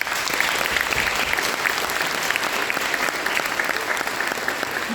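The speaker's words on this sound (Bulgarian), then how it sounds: "Аплодисменти!" Audience at a Christmas play breaks into steady applause, dense sustained clapping from a crowd filling the hall at even loudness throughout.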